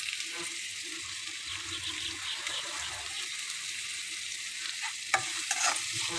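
Onions sautéing with rock salt in a pan, a low continuous hiss with faint stirring and a few small clinks near the end, quiet and close.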